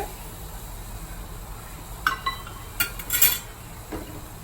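Strawberry syrup with sugar being stirred in a pot on the stove, heard as a few light metallic clinks and scrapes of a spoon against the pot over a quiet background, with no one talking.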